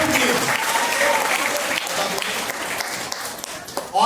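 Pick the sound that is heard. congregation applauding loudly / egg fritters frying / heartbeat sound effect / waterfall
congregation applauding loudly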